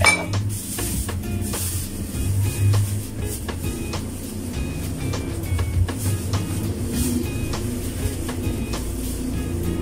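Beef in oyster sauce with string beans being mixed in a pan, giving a steady run of metallic clinks and scrapes of a utensil against the pan over a sizzling background, close and busy, with no talking.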